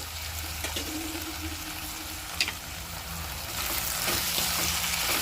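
Garlic, ginger, green chillies and curry leaves sauté in hot oil for a garlic pickle, a steady close sizzle with occasional stirring scrapes, growing a little louder and hissier toward the end.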